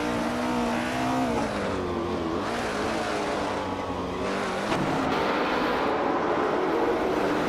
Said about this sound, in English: The engines are just revving up